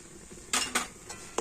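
A utensil scrapes and clinks against a bowl while rice powder and flour are stirred into ripe palm pulp, giving three or four short, close knocks in quick succession.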